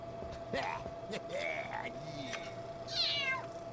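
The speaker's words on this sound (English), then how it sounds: "I never heard this cat meow before." A cat in the PC game Harry Potter and the Philosopher's Stone meows several times, with a higher, louder meow near the end, over a steady low game hum.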